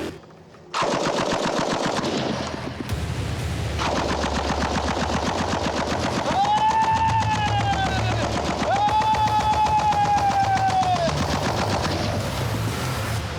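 An M60 machine gun fires a full belt in one long sustained burst, very loud and close, rapid steady reports ringing with echo for over ten seconds.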